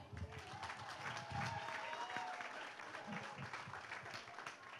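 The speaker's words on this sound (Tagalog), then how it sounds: "Ang hina naman ang palakpak nyo" A political rally crowd gives a faint, thin round of clapping for a slate of senatorial candidates, distant and soft, with scattered murmurs and talk mixed in.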